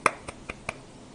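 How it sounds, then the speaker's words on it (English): Four quick hand claps from a single teacher, the first sharp and loudest, the rest lighter and evenly spaced, close and otherwise quiet with no speech. "Clap, clap."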